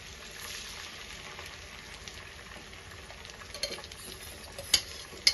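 Egg fried rice made with leftover rice being stirred in a pan, a steady soft sizzle and scraping with a few sharp clinks of the utensil against the pan near the end.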